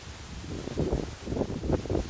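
Gusty wind rumbles across the microphone outdoors, a low buffeting roar that swells and eases with no voices.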